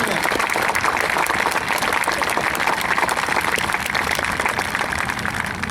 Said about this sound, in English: please give them another round of applause for the physical aspect of our program